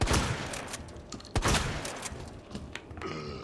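Gunshots fired in the video game Resident Evil 2: several sharp, loud reports spread across a few seconds, with a strong double burst near the middle and more scattered shots later, heard alone with no talking.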